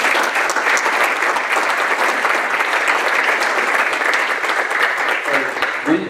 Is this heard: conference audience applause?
yes